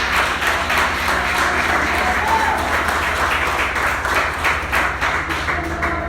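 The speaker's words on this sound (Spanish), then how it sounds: "Den un aplauso a Jesús" A church congregation applauds, with sustained, dense clapping from many hands spread through the room that continues steadily for several seconds.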